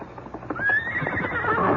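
A horse whinnies loudly and close by near a barn, the long rising and falling neigh running through most of the moment, with a few hoof clip-clops at the start and no talk.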